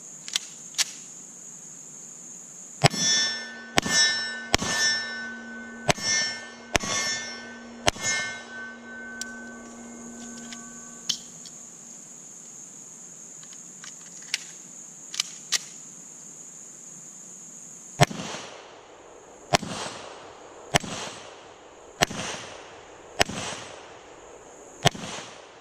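Walther P38 pistol fired at 7 yards on a range: a slow string of sharp, loud shots with ringing metallic clangs, then a pause and a quicker final burst of shots.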